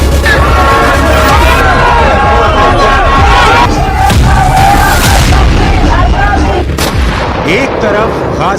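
A loud street uproar in Israel rolls on without a break, with a dense crowd shouting and chanting against the government while sharp bangs and booms cut through the din.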